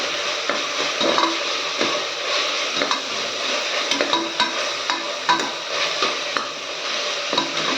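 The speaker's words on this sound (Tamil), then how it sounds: "நல்லா தக்காளி நல்லா குழைய நல்லா வந்து வதங்கட்டும்" Two medium tomatoes sautéing in a pan for beetroot biryani, with a continuous close sizzle of frying broken by regular scrapes and taps of a stirring spoon, no voices.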